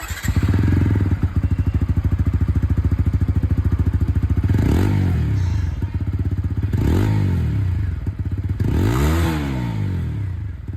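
A 160cc motorcycle engine idles with a steady throb, then revs up sharply three times, each rise falling back to idle, loud and close.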